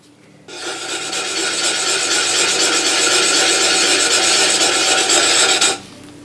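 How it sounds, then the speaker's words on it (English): Sandpaper rubs steadily against a wooden piece of a Japanese maze box puzzle in one continuous, loud, close rasping stroke lasting several seconds, then stops abruptly. "It's tight, which means that I need to sand some down."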